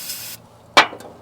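Short hissing burst of ether sprayed into the engine intake of a Caterpillar TraxCavator, heard once as a sharp close spray, with a faint second puff just after and a steady hiss at the start.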